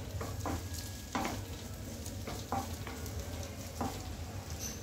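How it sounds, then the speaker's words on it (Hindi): Cabbage, carrot and capsicum stirred and tossed in a pan, a steady sizzle with several sharp scraping strokes spaced about a second apart, close and moderately loud, no voices. "गोभी, गाजर और कैप्सिकम, तीनों साथ में डाल देंगे। और इसे हम चला लेते हैं।"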